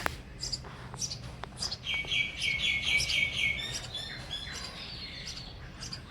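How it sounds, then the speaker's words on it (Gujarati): House sparrows chirp outside a home in the evening, giving quick high tweets and a rapid trilling burst in the middle. The calls are fairly close but soft, with no talk over them. "તમે સાંભળી શકો છો કે ચકલીનો અવાજ"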